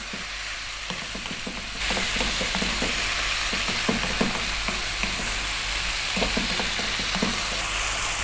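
Lamb liver and sliced onion fry on a hot tawa over high heat, a steady loud sizzle with frequent scraping stirs, the hiss swelling slightly after the first couple of seconds and continuing without pause.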